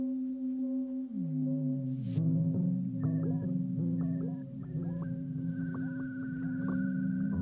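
Electronic Krell music from the film Forbidden Planet: low droning tones with gliding, bending pitches and pulsing upper blips, soft and eerie, with no voices.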